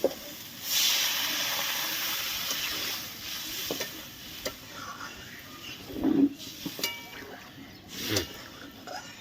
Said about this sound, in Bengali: সুন্দর কষানো হয়ে গেছে এখন আমি জল দিই